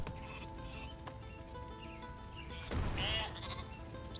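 A clear, loud sheep bleat rises near the end amid softer background bleats and a constant low game ambience in the Viking strategy game Northgard.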